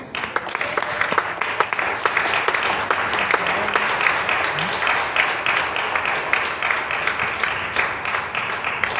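A church congregation at a Spanish-language sermon claps steadily, a dense sustained round of applause with distinct hand claps throughout, moderately loud in a reverberant room.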